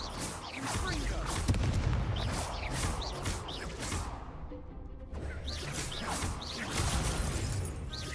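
A Confringo fire spell blasts in Hogwarts Legacy, with swooshing whooshes and booming impacts layered over busy, continuous game noise, dropping briefly to near-quiet midway before the clatter resumes.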